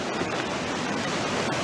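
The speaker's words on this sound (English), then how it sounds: "Plenty of that running water." Running water rushes steadily outdoors, a loud, dense, even hiss of flowing water throughout with no voices.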